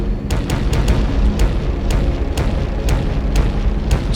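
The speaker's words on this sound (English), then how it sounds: "So he's throwing a whole bunch of grenades again." Repeated grenade blasts in the video game Tokyo 42, a steady run of loud booming explosions with sharp cracks roughly every half second over a constant rumbling low-end roar, no talking.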